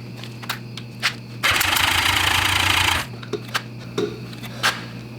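A 1985 Honda Goldwing engine cranks over on the starter for a compression test, a loud, steady churning burst lasting about a second and a half, with faint clicks and taps before and after.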